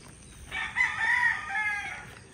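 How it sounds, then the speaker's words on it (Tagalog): Roosters and chickens at a rural yard: one loud, drawn-out crow in the middle of the clip, fairly close, with soft clucking and background ambience around it. "Walang tigil sa kakatilaok ang mga manok."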